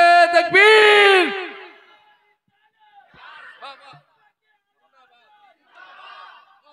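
A large crowd at a religious gathering bellows a slogan in unison, a loud, brief collective shout, followed by quieter stretches of someone speaking.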